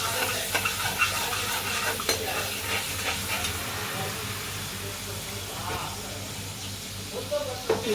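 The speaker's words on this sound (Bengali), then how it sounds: "এটাকে এবার ঘাটবো আমি।" A spoon stirs a ground paste into warm oil in a pan for paneer sundori, giving soft scraping and light sizzle that runs continuously at close range.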